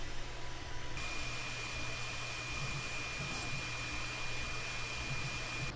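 An Elegoo Neptune 4 Plus 3D printer runs mid-print as a steady, quiet whir of fans. A thin electronic whine sits on top, with faint stepper-motor chirps now and then.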